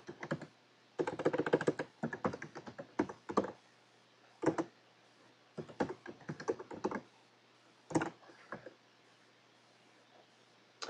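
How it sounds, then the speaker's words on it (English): Someone types a password on a computer keyboard to change a Raspberry Pi login, with quick clusters of close key clicks and pauses between bursts in a quiet room. "so I'm going to type in Raspberry"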